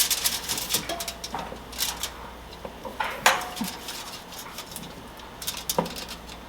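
A metal pan clinks and clatters in a few sharp knocks and scrapes while a rotisserie chicken is fitted into it, set against quiet kitchen background with no talking.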